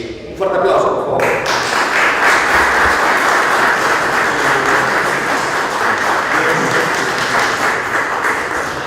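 Sustained applause from a large audience at a Peruvian Día del Locutor honors ceremony, starting after a brief pause and holding steady and loud as dense, even clapping throughout.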